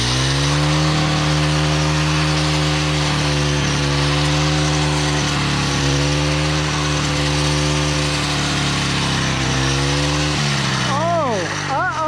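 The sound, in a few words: weed eater cutting brush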